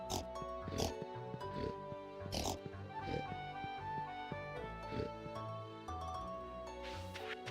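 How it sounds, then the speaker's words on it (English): Pigs oink in a farming video game, short grunts recurring every second or so over a steady bed of tonal game music, with a voice faintly present. "Hello, pigs."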